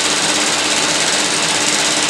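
A sewing machine stitches a boat neck blouse, giving a loud, continuous, fast mechanical whir at close range with no pauses.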